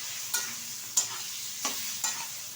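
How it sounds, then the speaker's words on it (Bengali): Long strips of ridge gourd sizzle steadily in hot oil while a utensil scrapes and stirs the pan in four sharp, evenly spaced strokes, close and clear with no talking. "একটু তেলের সাথে নেড়ে চেড়ে নেবে ঝিঙেটা"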